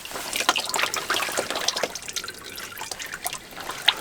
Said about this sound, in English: twist it off the rest of the way, and most of the oil should pour into the bag